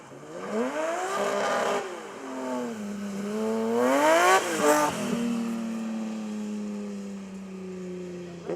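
A Mazda RX-7 rotary engine revving hard at a rally car slalom, climbing and falling in pitch through several sweeps before settling into a steady, buzzing drone.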